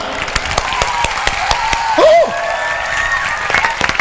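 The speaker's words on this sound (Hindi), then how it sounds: "ठीक है, पहले ताली बजा लो।" Seminar audience applause fills the room with dense, steady clapping mixed with a brief voice and crowd murmur, fairly loud and close throughout.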